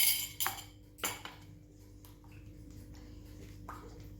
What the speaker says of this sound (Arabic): هنا غادي نخوي هاد الكاس تاع الليمون اللي غادي نخلط به